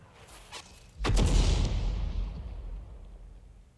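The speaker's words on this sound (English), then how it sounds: "You can hear the whiz of the shells as they fly past." A distant artillery boom with a long rumbling roll that fades slowly, heard in a wartime tank battle involving a Sexton self-propelled gun, preceded by faint crackling.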